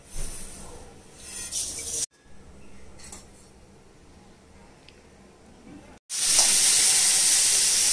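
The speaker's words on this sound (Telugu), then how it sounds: "ఫస్ట్ మీరు పోపు వేయిస్తున్నారు" Tempering spices fry in about two and a half spoons of oil for nalleru pachhadi. A soft sizzle gives way to a sudden loud, steady hiss of frying near the end.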